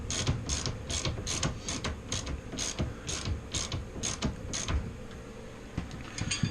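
Ratcheting and metallic mechanism clicks from tightening a part of a WP 6500 shock kit on a KTM motorcycle, a steady run of close, rapid clicks over a low workshop rumble.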